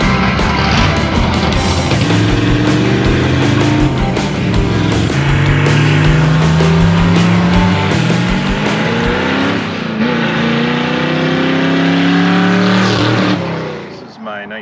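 A 1964 Chevy C10 truck engine runs loud and close, its rumbling note climbing and falling through repeated revs before cutting off near the end.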